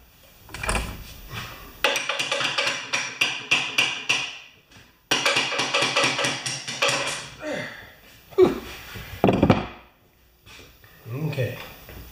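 Repeated hammer taps knocking a part out of an old electric wheelbarrow compressor, bursts of sharp metallic knocks in quick rhythmic runs separated by pauses, close by, with someone speaking in between.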